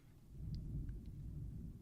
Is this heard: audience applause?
no